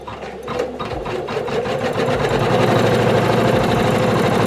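A single-needle embroidery machine stitches a felt key fob in the hoop, its steady, loud mechanical whirr and rapid needle chatter running continuously and speeding up slightly, close by with no talk.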